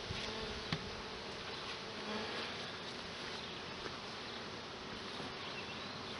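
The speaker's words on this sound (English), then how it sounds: "Get the bees off of there." Bees swarm and buzz around a hive feeder box, a steady, dense drone that holds throughout at close range with no talking.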